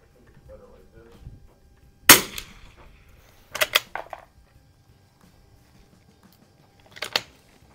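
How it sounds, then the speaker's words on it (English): Three sharp rifle shots from a Winchester 52D firing CCI standard ammunition at an outdoor range, a loud crack near two seconds followed by a quick double report and one last shot, with faint background between. "I was shooting one right after another into the same hole."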